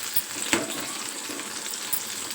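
Mustard seeds and urad dal temper in hot oil for a brinjal-tomato chutney, giving a continuous crackling sizzle with a couple of sharp pops and faint stirring clicks.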